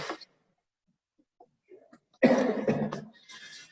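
A single cough bursts out during a virtual meeting after a quiet stretch, fairly close and loud, with a short breathy trail and faint rustle following.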